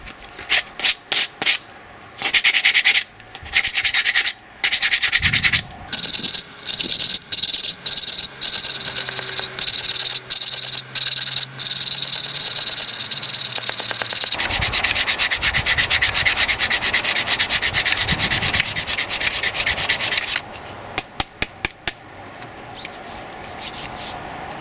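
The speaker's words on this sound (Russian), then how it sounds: "Будем потихоньку пробовать это дело вначале шкурить, а потом уже без какого-то фанатизма полировать. Вначале крупной, жесткой наждачкой," Coarse sandpaper rubs briskly over an old Soviet metal oiler dug from the ground, in rapid back-and-forth scratching strokes with short pauses, close and loud, with no talk.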